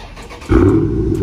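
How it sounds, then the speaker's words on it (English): A Dodge Charger Widebody Hemi V8 starts up outside a wrap shop, a short starter whir then a sudden deep, loud engine catch that settles into a rumbling idle, heard close. "See if y'all can hear that startup."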